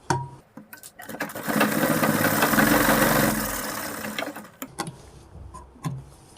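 A sewing machine runs in a steady mechanical whir for about three seconds while stitching elastic into the waistband of half-elastic pants, with short starts and stops of the motor before and after the main run.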